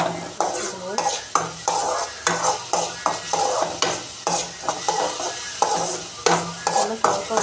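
Beaten egg with onion powder fries in a pan, a continuous sizzle broken by repeated rhythmic scraping and stirring strokes of a utensil against the pan, close and fairly loud.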